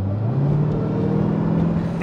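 Dodge Durango Hellcat in sport mode revving, its supercharged engine giving a steady, loud low drone that climbs slightly in pitch, with a faint whine riding on top, and no talking.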